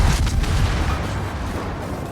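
In a naval warfare video game, warship main guns fire shells at an enemy ship, producing deep rumbling booms that roll on with heavy low-end weight.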